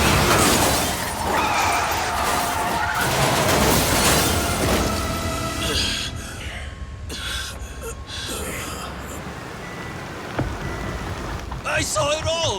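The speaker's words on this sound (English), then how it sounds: "That black van just rammed right into that car!" In the video game Like a Dragon, a black van rams into a car: a loud, dense crunching impact roar that rolls on for several seconds, then fades into quieter scattered noises.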